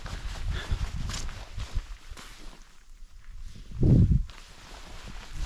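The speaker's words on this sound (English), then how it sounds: "Oh, I could hear footsteps." Footsteps in mountain woodland, soft irregular crunching steps on forest ground nearby, with one heavier thud and a quieter stretch in between.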